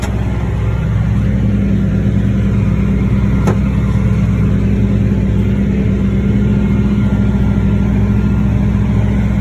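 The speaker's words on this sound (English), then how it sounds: "good thing we got big enough horsepower tractor to pull along through" A high-horsepower John Deere tractor engine labours steadily as it pulls through wet ground, a loud continuous low drone with no speech.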